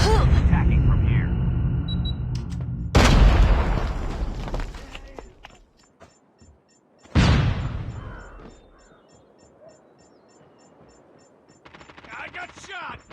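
Call of Duty Mobile gunfire, with two loud sharp shot bursts followed by decaying echoes and scattered smaller shots, alongside game sounds and voice lines.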